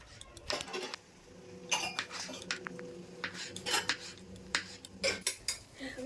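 A knife chops peeled ridge gourds into small pieces on a board in a kitchen, making irregular sharp taps and short clusters of quick knocks close up.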